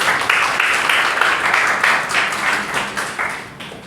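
Audience applause fills a hall before a university medical students' debate on abortion: steady, dense clapping from a crowd that holds for about four seconds, then thins slightly toward the end.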